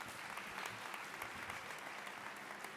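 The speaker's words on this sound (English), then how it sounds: "Come on, give Sergio a round of applause for that introduction." An audience applauds steadily after an introduction at a morning event, a dense, even clapping that fills the clip without pause.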